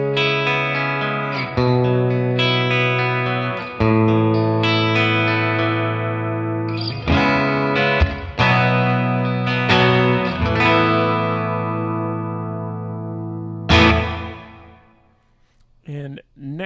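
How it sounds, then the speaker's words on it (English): Electric guitar played through the room reverb mode of a Red Panda Context pedal, chords and picked notes ringing with a short ambient tail, fairly loud and alone, ending in a brief decaying pause and a final strum. "So here's the room reverb."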